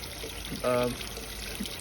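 Water pours and trickles through a Suzuki SV650 motorcycle fuel tank to flush out vinegar and rust bits, a close, steady running gurgle with a brief louder burst, while a person talks.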